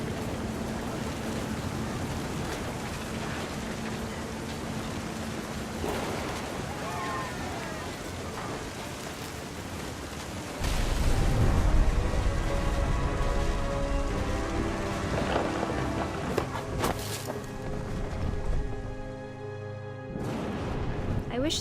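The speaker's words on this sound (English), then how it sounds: "The thunder sounded much too close and full of angry power." Heavy rain pours in the game What Remains of Edith Finch while thunder rumbles and swells midway, surging louder before easing, under a narrator's voice and soft music.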